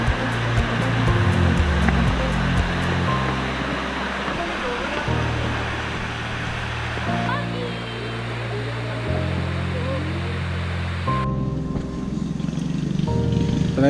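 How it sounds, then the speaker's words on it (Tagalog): Broad, steady rushing of river water near Wawa Dam, loud and constant under a continuous engine-like hum and shifting low tones. "Ito na yung ilog, oh."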